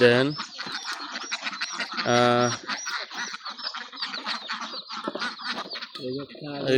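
A rooster clucks in short bursts on a duck farm while a person keeps talking nearby, its calls rising over the speech in a couple of spots.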